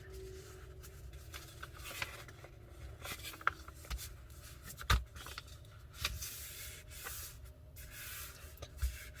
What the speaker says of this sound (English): So just fold it here, and I can press this part of the paper down